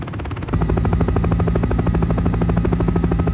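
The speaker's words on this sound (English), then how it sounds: "Helicopter engine starting." Cartoon helicopter engine starts up: a steady, loud pulsing buzz with a rapid rhythmic chop kicks in after a brief quieter moment and runs continuously to the end.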